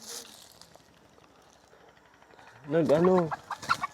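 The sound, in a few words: chicken clucking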